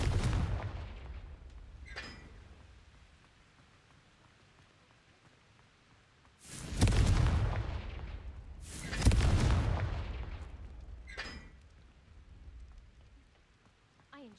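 Spell blasts from the Confringo spell in the video game Hogwarts Legacy, two loud, booming explosive bursts that decay slowly, with fainter whooshes and rumbles around them.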